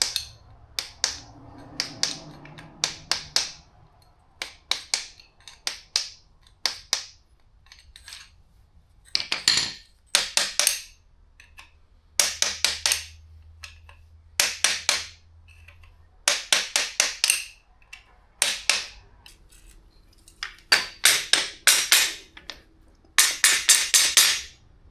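Metal tool tapping on a Suzuki DRZ400E rear shock to free a part during an Eibach spring swap, a long series of short sharp clinks in quick clusters with brief pauses, close and fairly loud.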